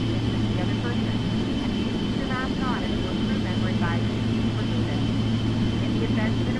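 Steady jet-engine drone from an Emirates PMDG 777 airliner taxiing at Seattle in Flight Simulator X, a continuous low hum with a faint voice briefly audible in the middle.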